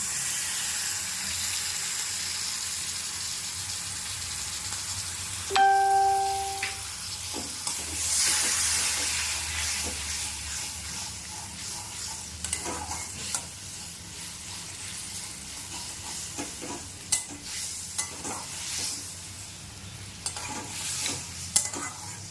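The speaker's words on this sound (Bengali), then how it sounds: "এরপর আমি ফেটিয়ে রাখা টক দইটি এর মধ্যে দিয়ে দিচ্ছি" Whisked sour yogurt hits sizzling masala in the pan for a yogurt-and-rohu fish curry, bursting into a brief loud sizzle and then settling into steady frying. Intermittent stirring scrapes and clacks from the spoon continue throughout.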